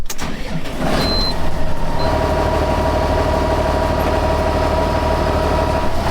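A farm tractor's engine runs steadily and loud at close range as it is maneuvered forward and back with the shuttle reverser, a constant low rumble with no talking.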